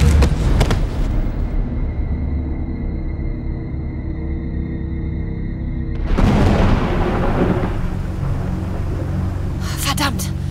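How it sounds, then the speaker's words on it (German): Thunderstorm in a German radio drama at sea near a ship, with deep rumbling thunder and heavy noise bursts at the start and again midway, while dramatic music and voices play over it. "Verdammt! Dieses Unwetter ist unnatürlich."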